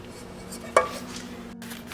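A utensil scrapes pão de queijo dough out of a pan, with one sharp clink against the metal partway through in an otherwise quiet kitchen.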